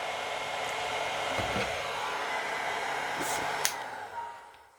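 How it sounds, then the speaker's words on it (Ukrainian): A hair dryer blows steadily with a constant whooshing hum, close by, then cuts off near the end. "То можна фен. Мені подобається феном."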